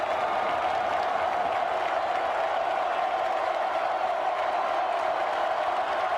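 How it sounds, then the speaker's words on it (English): Football stadium crowd at the Oklahoma versus Texas college game, a steady, dense roar of cheering and noise from thousands of fans that holds evenly throughout without a break. "Listen to this crowd"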